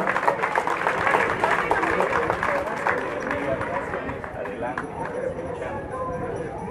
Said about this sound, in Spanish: ¿Por qué no le dan fuertes palmas a nuestro corredor?